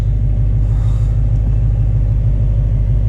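Manual Dodge Hellcat engine idling on launch control, a loud, steady low rumble that holds without a clear rev rise.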